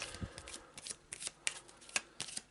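A deck of game cards for the board game A Touch of Evil being shuffled by hand, a run of crisp riffling flutters and taps close up, with no voices.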